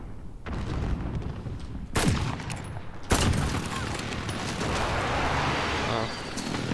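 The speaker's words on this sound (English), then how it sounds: "Allied precision airstrike incoming." Video game precision airstrike with a rapid fusillade of gunfire and booming explosions, two sharp loud blasts standing out over sustained crackling battle noise.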